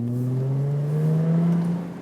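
A Jaguar F-Type engine note heard from the rear while braking downhill, a low steady drone that rises slightly in pitch, close and fairly loud, with no talking over it.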